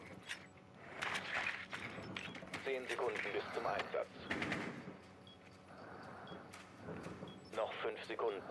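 Bursts of gunfire rattle through a Rainbow Six Siege match in short, repeated volleys, fairly quiet overall, while a player talks over them throughout.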